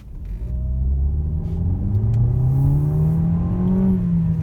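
A Peugeot 3008 SUV engine rises steadily in pitch as it accelerates, a loud, continuous hum building smoothly up close with no talking.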